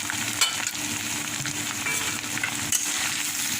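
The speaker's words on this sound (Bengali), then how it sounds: "উনানের আঁচটা বাড়িয়েই আমি একটু ভেজে নেব" Mashed dried fish (shutki) fries over a high flame, giving a dense, continuous sizzle with brief scraping bursts as it is stirred.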